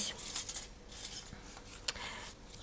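Scissors snip quietly through paper, cutting small squares for a handmade chocolate-bar card, with a series of soft, irregular close-up cuts and rustles.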